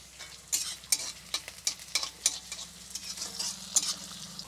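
Dried chilli, chopped onion and garlic frying in a pan with black cumin, a steady close sizzle broken by repeated scraping stirring strokes at an uneven rhythm, with no voices.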